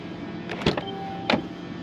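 The soft-close door of a 2018 Mercedes-AMG E63S draws itself shut with a short motorized whir and two soft mechanical clunks, close and fairly quiet.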